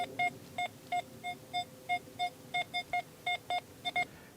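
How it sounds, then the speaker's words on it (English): XP Deus II metal detector signalling a shallow target with rapid, clipped digital beeps in an uneven Morse-like pattern, over a dozen short tones, close and clear with no voices. "very digital, very Morse code."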